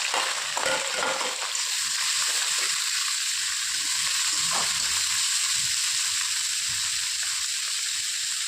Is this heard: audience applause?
no